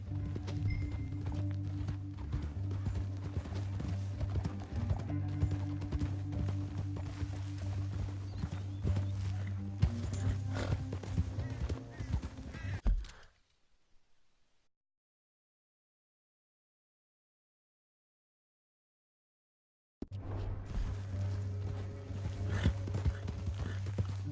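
Horse hooves clip-clop steadily and loudly in the video game Red Dead Redemption 2, cutting to silence for several seconds before the hoofbeats resume.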